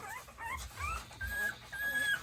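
American Bully puppies whimper and yip in short high whines, several overlapping cries over about two seconds, with a voice talking underneath.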